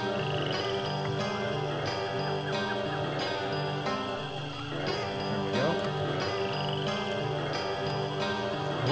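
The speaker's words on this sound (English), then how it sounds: "like the crickets and the frogs and stuff, it's awesome" Croaking frogs and chirping crickets from the Pokemon Uranium video game, layered over steady in-game music with faint tinkling, looping continuously at moderate level.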